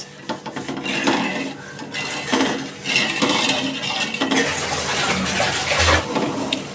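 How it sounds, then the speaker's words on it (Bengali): Water being poured into a metal pot for sugar syrup, with loud splashing, clanking and knocks of the pot and cup in bursts, up close and without talk. "চিনি যে কাপে মেপে নিয়েছি সেই কাপে আমি তিন কাপ জল দিয়ে দিচ্ছি"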